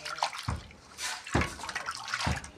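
Water splashes as a rohu fish is washed in a kitchen, with repeated soft sloshing pours and drips at close range, fairly quiet, in three or four uneven bursts.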